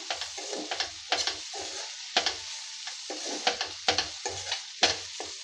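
Bitter gourd curry is stirred in a frying pan with coriander leaves just added, giving steady sizzling broken by repeated scraping strokes of the spoon, close and fairly loud.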